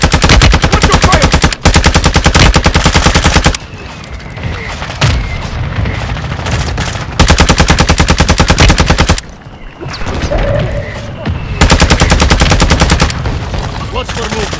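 Loud gunfire in a Call of Duty: Modern Warfare II match, with long stretches of rapid automatic bursts broken by short pauses and quieter moments, and booming impacts under the shooting.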